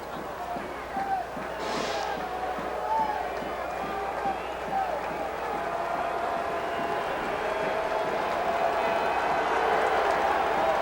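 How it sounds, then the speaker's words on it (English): A stadium crowd roars steadily at a CFL football game between the Calgary Stampeders and the Saskatchewan Roughriders, a broad distant swell running beneath a commentator's voice throughout. "Crowd making noise"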